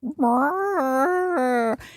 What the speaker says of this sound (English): Excuse me now, those are my cats.